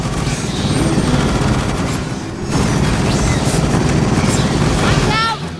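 Sustained rapid gunfire from a charged weapon in the video game Aliens Fireteam Elite, a dense continuous barrage under in-game voices and combat noise.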